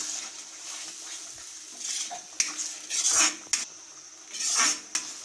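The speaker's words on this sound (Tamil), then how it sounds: "நல்லா கலந்து விட்டுட்டு இந்த எண்ணெயிலே தக்காளி, வெங்காயம் எல்லாம் நல்லா வதங்கி எண்ணெயெல்லாம் பிரிஞ்சு வரட்டும்." A spoon clanks and scrapes against a pan while tomatoes and onions for a chicken gravy are stirred in oil, with irregular close metallic knocks and brief swishes over a faint background.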